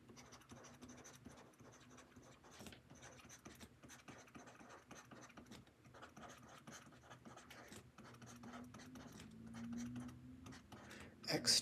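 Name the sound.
writing on a board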